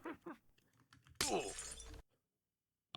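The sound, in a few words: glass breaking sound in Minecraft video game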